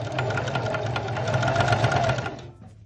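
A sewing machine stitches along one side of fabric while making a dress bodice, a fast, even mechanical whirring patter close by that runs without pause and then stops.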